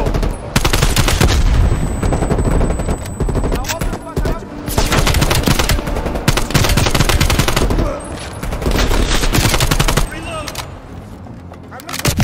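Rapid automatic gunfire from Call of Duty: Black Ops Cold War rattles in loud, dense bursts nearly the whole time, with brief lulls and overlapping shots, while players talk over the action.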